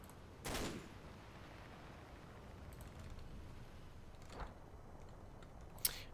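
Gunfire from units in the Combat Mission Black Sea war game: a short burst near the start, then sparse single cracks later, quiet and spaced apart over a low background hiss, no talking.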